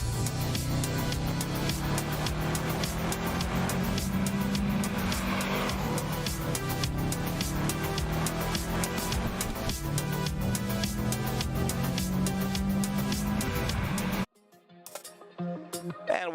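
Race cars circle WeatherTech Raceway Laguna Seca during a track battle heat, engines droning steadily and rising and falling in pitch as they accelerate and pass, loud and continuous, then cutting to a quieter stretch with faint mechanical sounds.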